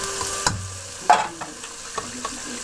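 Chicken pieces sizzling in a hot pan while being stirred, with a steady frying hiss broken by several clinks and scrapes of a utensil against the pan, close up and without talk.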